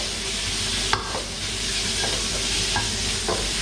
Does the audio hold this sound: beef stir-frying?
yes